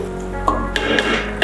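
A masala mix for mushroom biryani sizzles in a pan while being stirred, a close, steady frying hiss broken by a few quick metallic scrapes and clinks of the utensil.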